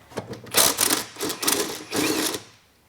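A sander trues up the flanges of a worn clutch in a workshop, running in about four short, close buzzing bursts with brief gaps between them before fading out.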